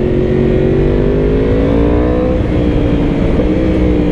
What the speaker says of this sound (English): Let me see if you can hear this downshift here.